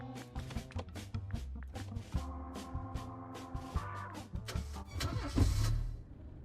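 A car engine starting in a video game, with a clear, steady mechanical start-up over layered game music and effects, loud and close throughout, with no talk.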